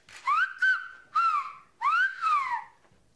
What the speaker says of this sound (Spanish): los niños de esta clase no solo aprenden el lenguaje de sus ancestros, el occitano, sino también a silbarlo.